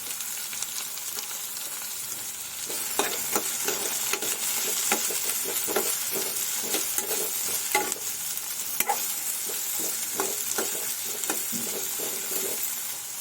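Green chillies and curry leaves stir-fried in hot oil in a pan for Telugu-style poha, a steady sizzle with repeated scraping stirs of a spatula throughout, close and continuous with no talking.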